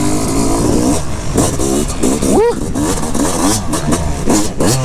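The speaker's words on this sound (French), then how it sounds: "le bruit de la moto là avec le silencieux FMF, c'est impressionnant" A Fantic dirt bike fitted with an FMF silencer revs hard and close, giving a rough, loud, crackling exhaust note with quick throttle blips. A man exclaims over it.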